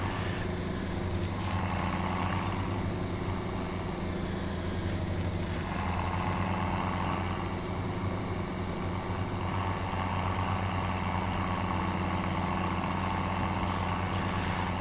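A tractor engine in the video game Farming Simulator 17 drones steadily and low throughout, a constant mechanical hum with faint brief clicks and hisses above it.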